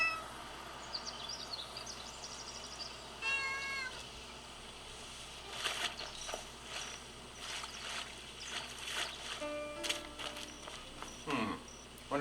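A cat meows a few times in the video game Where Winds Meet, small chirpy calls over a steady ambient bed of insects and soft outdoor game sound, no talking.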